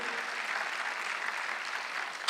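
Steady, dense applause from a church congregation at a Sunday worship service fills the space, continuous and loud for the whole stretch with no pauses.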